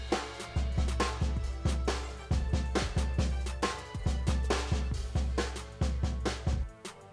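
A drum beat sound effect triggered from a Tascam Mixcast 4 pad, a steady pattern of punchy kick and snare hits at a quick tempo, close and clear with no talking.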